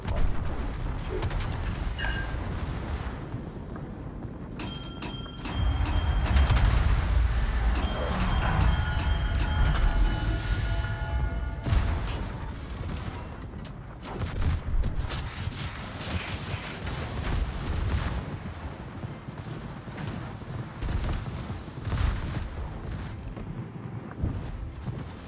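Warship turret guns firing in the naval game World of Warships, a heavy cruiser in a clan battle, with loud booming salvos and mechanical clatter layered over continuous engine and battle rumble, no talk.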